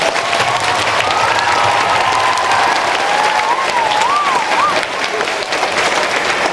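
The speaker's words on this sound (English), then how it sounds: "Let's give them one more round of applause." An elementary school crowd at a Memorial Day assembly gives its guests a final round of applause, steady and dense throughout, with a faint tonal whistle-like line threading through the middle.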